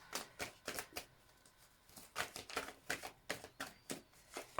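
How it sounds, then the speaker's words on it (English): Tarot cards that feel sticky are shuffled by hand, producing quiet, close riffling bursts in a quick irregular rhythm. "My shuffling is not good today. These cards are just sticky."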